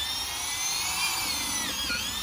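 Power drill bores into wood for a planter box frame, a loud steady high whine held close throughout, with a slight pitch dip near the end as the bit bites.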